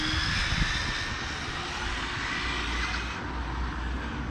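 Continuous high whine and roar from the electric motor of an ARRMA 1/7 scale RC BMW 330D car with a 1000kv motor running at speed, loud and steady for several seconds.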